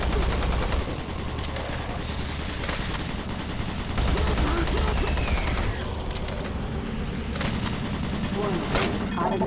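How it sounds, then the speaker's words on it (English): Automated turret guns fire in the Doom 3 game, a dense, sustained barrage of loud gunfire with booming bursts that runs throughout, mixed with game noise and a voice speaking over it. "Warning, automated turret guns online."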